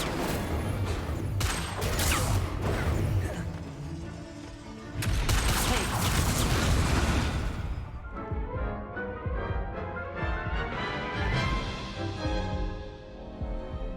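Incendio fire spell cast in Hogwarts Legacy, a loud burst of crackling, roaring magical blasts with heavy impacts, followed by a ringing, tonal sustained spell effect fading out.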